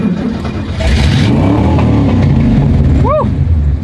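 A Ford Mustang Eleanor's engine revs up loud and close, a deep rising roar that holds steady as the throttle stays open, with a brief higher whine near the end.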